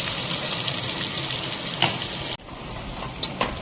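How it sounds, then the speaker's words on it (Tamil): Sliced onions with rock salt sizzle steadily in hot oil for chicken biryani, a dense continuous frying hiss with a few soft stirring scrapes and a brief dip near the end. "ஆனியன் வந்து வதங்கிட்டு இருக்குதுங்க."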